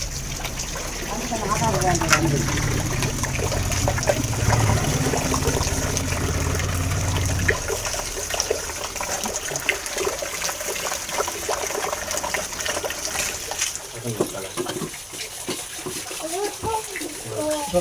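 Tap water running steadily in a kitchen while food is washed, a continuous splashing stream that later thins to trickles, with people talking over it.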